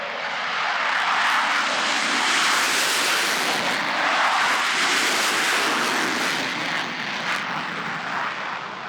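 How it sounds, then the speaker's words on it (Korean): F-4 Phantom II fighter jet taking off in Suwon at the start of its farewell flight, a loud, continuous broadband engine roar that stays steady and close for the whole stretch, with no voices. "귀를 뚫고 터져나오는 거친 엔진 시동과 함께 도깨비가 불을 뿜어대듯 팬텀기가 힘차게 떠오릅니다."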